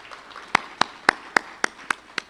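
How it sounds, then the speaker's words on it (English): At a business summit, evenly spaced hand claps, about eight sharp claps at a steady rhythm, stand out clearly against a quiet background rather than forming a full crowd roar. "Let's give ourselves a huge round of applause"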